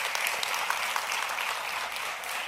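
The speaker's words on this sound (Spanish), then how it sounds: "La gloria, dale un fuerte aplauso," A church congregation applauds during a sermon, a steady, moderately loud roar of many clapping hands that holds evenly throughout.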